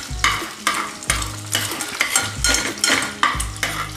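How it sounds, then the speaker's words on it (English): An egg fries over a low flame in a pan while a utensil stirs and scrapes it, rhythmic scraping strokes about every half second over a steady sizzle, close and clear, with no talking. "So I put the egg, and I'm just frying it a bit like this."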